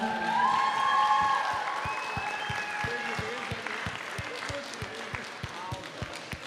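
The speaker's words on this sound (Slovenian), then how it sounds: "Aplavz za zmagovalce." A crowd at an awards ceremony closing a convention applauds the winners, with a brief voice and tones over it at first, then the clapping fades into scattered individual claps.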